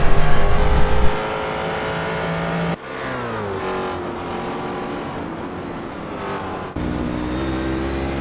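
A GT-class race car engine in a sim racing game at Road Atlanta revs loudly and steadily, with two abrupt shifts in pitch as gears change and the engine note climbs again, heard alone without commentary.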